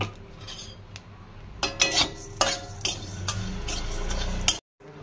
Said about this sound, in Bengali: এই ধনে আর জিরেটাকে আমি খুব সুন্দর করে একটু ড্রাই রোস্ট করে নেব।